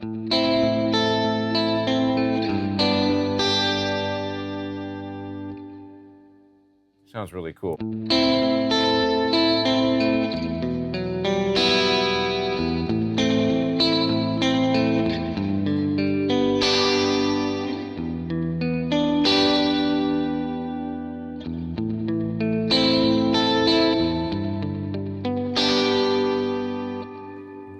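A distorted, effected guitar plays chords and arpeggios drenched in reverb with a fast, shaky vibrato modulation; a voice briefly speaks partway through.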